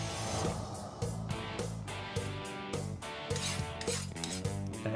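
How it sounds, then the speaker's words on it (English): A Korean woldo blade is ground into shape in a forging workshop, producing a loud continuous abrasive rasp that is broken by brief repeated pauses. "I got plenty of meat on there that I can grind back and get to the shape I'm looking for."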